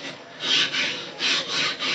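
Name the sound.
flattening sharpening stone on DMT extra coarse plate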